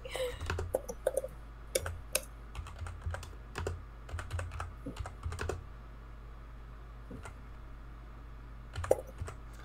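Typing on a computer keyboard, with irregular bursts of clicking keystrokes close by, some spaced pauses between flurries, and no voices.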